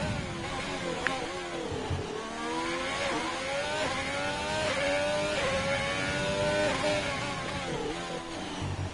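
An Alfa Romeo race car engine in a sim racing game revs and shifts repeatedly at high pitch, a continuous buzzing onboard drone with rising and falling gear sweeps, with commentary talk running over it.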